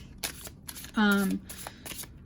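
A deck of cards shuffled by hand into four piles, heard as a few short, crisp riffling bursts close by, with a brief voiced sound in the middle.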